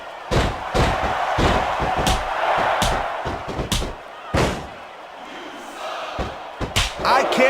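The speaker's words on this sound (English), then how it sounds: "I can't remember the last time I seen a crowd so pumped up." A crowd roars and cheers in a WWE Smackdown vs Raw 2006 wrestling match, loud and sustained, broken by repeated heavy slams and thuds from the ring.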